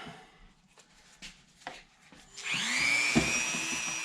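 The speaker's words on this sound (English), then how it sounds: "I'm just going to run the Dremel through this here, try and clean up these edges a little bit" A Dremel rotary tool grinds the rough metal edges of a U-joint from a 1967 Chevy Corvette. A few light knocks and handling noises come first, then a close, high, steady whine that rises in pitch and holds to the end.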